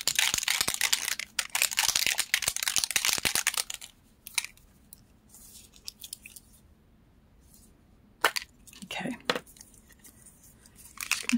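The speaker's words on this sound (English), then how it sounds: "Shake it really good." A spray bottle of scrapbooking spray is shaken hard in a fast rattling burst for several seconds, followed by quieter scattered clicks and handling noises.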